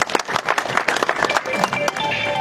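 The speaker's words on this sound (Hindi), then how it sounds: "साथियों जोरदार तालियों से स्वागत" Crowd applause and scattered clapping welcoming a speaker at an outdoor election campaign rally in a village, a dense burst of hand claps with some voices mixed in, fairly loud and steady for a couple of seconds.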